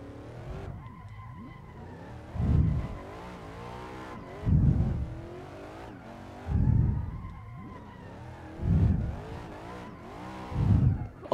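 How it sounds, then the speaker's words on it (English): A Chevrolet Corvette HGK in the racing game Assetto Corsa spins its tires and skids, with the engine revving between about five recurring bursts of tire squeal, loud and close. "I can't spin my tire to get it warmed up"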